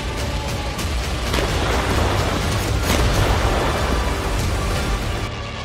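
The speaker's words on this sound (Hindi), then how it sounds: "इस वीडियो में ज़ेलेंस्की को डराने वाला बहुत बड़ा धमाका है।" A large explosion in war footage from Ukraine: a dense, sustained roaring rumble, loud and continuous throughout, with heavy low-end boom and no voices.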